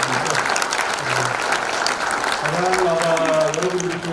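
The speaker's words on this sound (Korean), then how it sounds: "큰 박수로" Audience applause at a Korean lecture or talk, a loud, dense clapping that fills the whole span, with background voices and a tonal hum rising near the end.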